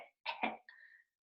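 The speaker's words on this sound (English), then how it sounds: "Turn your head away" A person turns their head and coughs into their sleeve, giving two close, muffled coughs followed by a short voiced tail.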